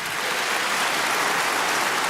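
A live audience in an event center applauds, a dense steady patter of many hands clapping at once, with no talk over it.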